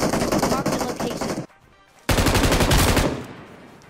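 Rapid bursts of gunfire in a battle royale video game: a loud automatic volley, a short lull, then another sustained burst of shots tapering off.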